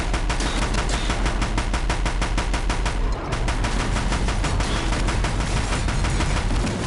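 Rapid automatic gunfire from the Deathbringer gun in the video game Horizon Zero Dawn, a loud continuous stream of shots that pauses only briefly around the middle before resuming.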